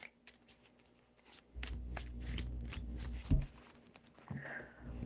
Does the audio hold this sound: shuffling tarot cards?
yes